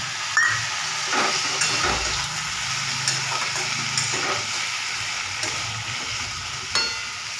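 Potato and brinjal chunks sizzling in a pan, stirred with repeated scraping and clinking strokes, a light hiss rising as a small splash of water hits the hot oil.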